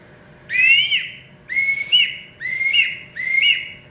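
Four shrill whistle blasts from a handmade wooden eagle whistle, each a rising, piercing screech, sounded one after another with short gaps, close and loud.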